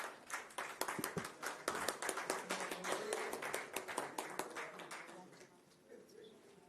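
An audience applauds at the International Ayush Wellness Conclave 2025. The clapping is dense and steady for about five seconds, then thins and fades into the room.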